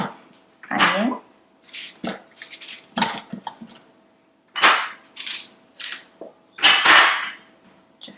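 Knife roughly chopping onion on a board, a series of sharp, uneven knocks and clatters with pauses between, close up, with a voice heard in places between the chops.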